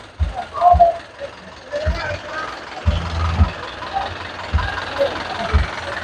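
A tractor's low diesel engine idles at a tractor market with a steady rumble while someone talks over it in short bursts.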